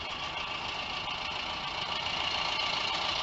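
Vehicle engine idling as it crawls up a steep sloped driveway, a steady even hum with faint knocking texture throughout, constant and fairly loud with no voices.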